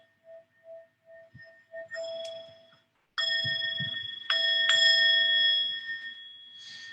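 A singing bowl is gonged, first with soft repeated taps, then struck firmly twice so long ringing metallic tones swell and slowly fade.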